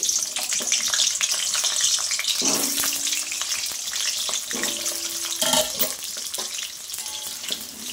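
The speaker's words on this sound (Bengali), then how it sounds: "আলুগুলো একটু লাল লাল করে ভেজে নেব আগে।" Potato pieces for mutton curry fry loudly in hot oil, a dense crackling sizzle all the way through, with a few spoon knocks and scrapes as they are turned.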